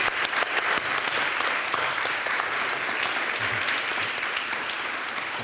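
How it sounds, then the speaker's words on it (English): An audience at an eco-social renewal event applauds four artists with steady, dense clapping that holds at an even level throughout and tapers only slightly near the end. "I will ask you all for great applause"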